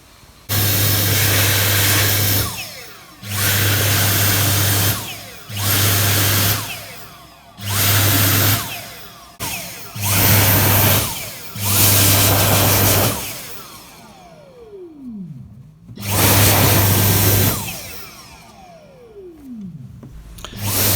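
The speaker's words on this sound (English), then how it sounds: "help dry his feet in the hand dryer" Hand dryer blowing on a puppet's wet feet, a loud steady roar in repeated bursts of a couple of seconds each with short gaps, later bursts tapering as the motor winds down.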